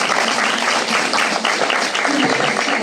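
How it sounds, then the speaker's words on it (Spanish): Applause during a live podcast recording in Aragón, a dense continuous burst of clapping that stays loud and even throughout. "Pues un aplauso."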